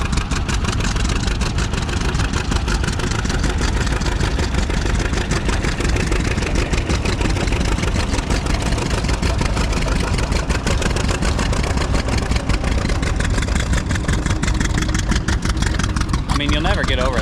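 An old steel-wheel tractor engine runs steadily at a threshing bee, a loud continuous mechanical chugging throughout with outdoor background noise and possible voices mixed in.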